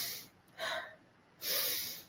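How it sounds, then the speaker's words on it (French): Two strong breaths pushed hard through the nose, each a loud, breathy rush of air set apart by a short quiet gap, done as a breathing exercise for calming emotions, with no speech. "J'inspire fort et je lâche."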